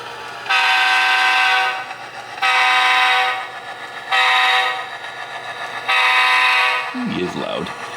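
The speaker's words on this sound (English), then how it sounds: "I think that horn's just a little bit too loud." Model train locomotive horn sounding four long, loud blasts with short gaps, while the local switches tank cars on a layout; a voice speaks briefly near the end.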